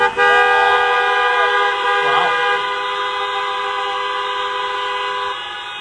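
Many audience horns at a live talk blare together in a loud, sustained chorus of overlapping tones, swelling and slowly easing off, with a brief voice cutting in midway.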